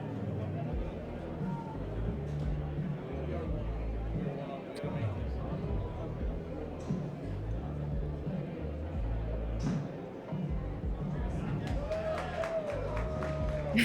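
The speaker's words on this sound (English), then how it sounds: "The team cheering on Luke Moser for his double bogey" Teammates cheer and shout for golfer Luke Moser's double bogey during a Golfzon Tour simulator golf match, Toronto versus Orlando; a steady blend of crowd noise and cheering runs throughout beneath ongoing talk.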